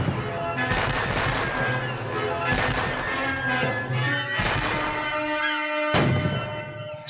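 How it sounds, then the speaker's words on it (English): Ship cannons firing in a naval attack on a French vessel boom in four or five heavy, spaced blasts, each with a long ringing decay, fairly loud and without talk. "Hornigold's 3 ships attack the French ship with their guns."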